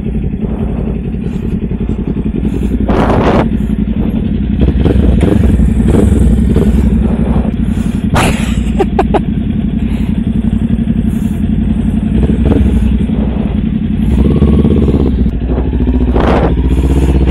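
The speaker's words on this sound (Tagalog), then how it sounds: "So ito yung Kawasaki Ninja 400. This bike is also for sale." A 2022 Kawasaki Ninja 400 ABS motorcycle on a test ride, its engine running loud and steady with revving swells and mechanical clatter close up, mixed with rushing wind and road noise.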